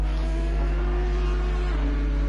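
Race car engines at Imola in a PS4 racing game qualifying session: a steady, droning engine note with sustained tones, held at an even, moderately loud level throughout.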